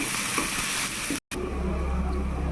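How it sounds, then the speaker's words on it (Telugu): Tomatoes and onions sizzle loudly in a pan, a dense close frying hiss broken by a brief cut of silence midway, with no voices. "రెండు కొంచెం మగ్గనివ్వాలి టమాటాలని ఉల్లిపాయలని"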